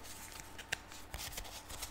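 Tarot cards are shuffled close by in quick, soft riffling bursts and papery slaps, fairly quiet, with one sharper snap early on and a faint voice barely present.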